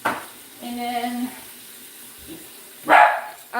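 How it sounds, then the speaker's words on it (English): Indoors during a home yarn-dyeing session, a dog lets out short, sharp barks: one at the very start, a loud close bark near the end and another right after, with quieter household noise between. "now my dog is barking"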